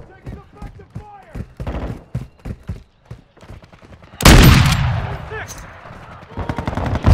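Gunfire in Call of Duty: Modern Warfare II: a dense, loud burst of automatic fire and a reverberant blast break in after a stretch of shouted call-outs, with the shooting continuing under the fading echo.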